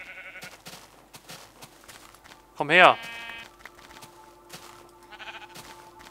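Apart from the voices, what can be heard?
sheep bleating in Minecraft video game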